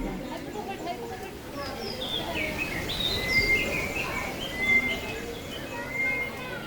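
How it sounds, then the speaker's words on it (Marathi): High, squawky calls of a large parrot ring out several times over a noisy outdoor background at Byculla Zoo, Mumbai, with a person talking alongside. "हा कुठला तरी पोपट आहे मोठा पोपट आहे"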